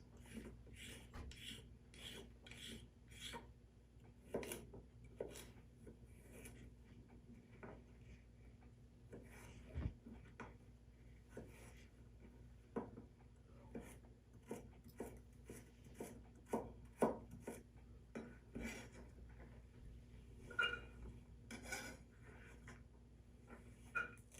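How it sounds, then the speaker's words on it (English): Carrots being peeled for a plant-based potato soup, a quiet, repeated rasping scrape of the peeler in steady strokes, close and alone with no talk. "So the first thing I do is begin peeling the carrots"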